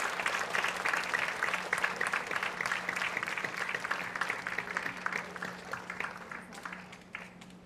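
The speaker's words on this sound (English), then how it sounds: "Can we have a huge round of applause for our first winner for the evening?" An award ceremony crowd applauds steadily throughout, a fairly faint, even wash of clapping with a low steady hum beneath it.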